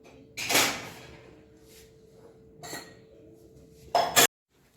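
Three separate bursts of dishes and utensils clattering nearby, the last one sharp and doubled, with quiet pauses between them.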